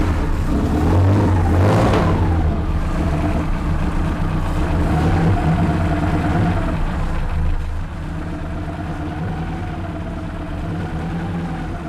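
A 1929 Ford hot rod roadster engine starts with a rising rev, then settles into a steady, loud idle close by, its note dropping slightly near the end.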